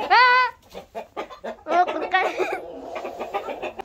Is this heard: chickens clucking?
yes